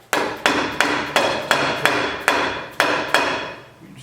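Hammer tapping a bearing into a Ford 8-inch axle housing, nine sharp metallic strikes in an even rhythm about a third of a second apart, each ringing briefly, close and alone without talk.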